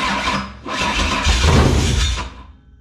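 A car engine with a Holley Terminator X fuel injection system cranks and fires up on its first start, catching into a loud, rough, uneven run that fades off toward the end.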